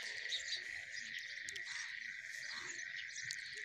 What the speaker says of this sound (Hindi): सिर्फ पशु पक्षी जो जानवर हैं उनकी आवाज़ आती है